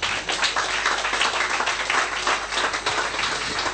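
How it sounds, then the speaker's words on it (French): A church congregation applauds steadily and densely throughout, a continuous wash of clapping from many hands, fairly close and sustained without pause. "Applaudissons Jésus-Christ, alléluia."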